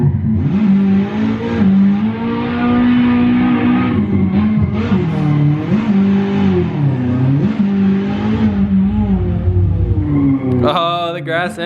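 A car engine in the Assetto Corsa video game revs and drones loudly and continuously, pitch rising and falling with acceleration, with a higher whine near the end.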